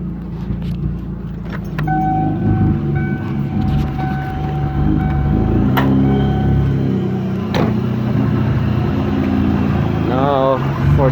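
A supercharged 1991 Ford Taurus SHO engine idles steadily and loudly throughout, a continuous low rumble with the AC blower roaring on high, some metallic clinks and keys jangling, and a person talking over it.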